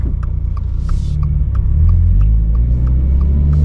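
A manual transmission car pulls away from a stop sign in first gear, a loud, close engine rumble rising slightly as it accelerates, heard from inside with no talk.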